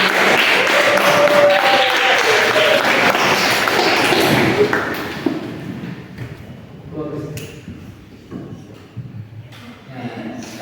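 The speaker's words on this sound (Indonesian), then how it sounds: "Kasih tepuk tangan." A classroom audience claps together during a hadith micro-teaching lesson, a dense burst of applause that fades halfway through, leaving scattered taps and quiet room noise.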